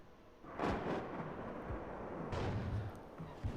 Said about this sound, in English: Artillery coming in on this area now